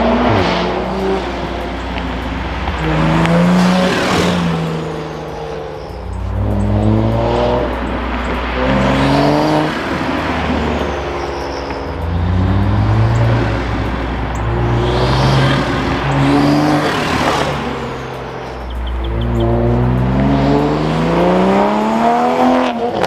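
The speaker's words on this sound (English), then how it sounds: "Let's drive it now, because that's where we're gonna really hear the turbo noises." A Toyota Supra fitted with a turbo inlet pipe accelerates through repeated gear pulls, its engine note rising and falling in loud surging sweeps with turbo whoosh, heard from outside as it drives past.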